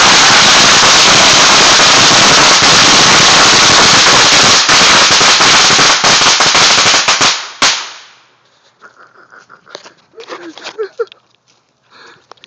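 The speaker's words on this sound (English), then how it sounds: "Okay, correction, 500 firecrackers." A string of 500 firecrackers explodes in a loud, dense, continuous crackling roar for about seven seconds, then cuts off abruptly, leaving quiet outdoor background with scattered faint pops and people talking.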